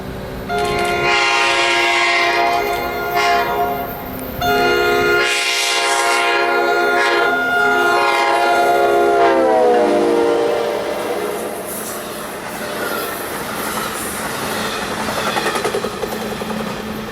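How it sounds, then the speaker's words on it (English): An eastbound New Jersey Transit commuter train roars past close by on the Northeast Corridor, its horn blaring in long tones over the rumble of wheels and engine, then fading. "here came train 5742 eastbound"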